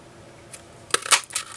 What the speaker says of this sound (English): I'm just going to take my snips and just trim it off to get it to slide in there a little bit better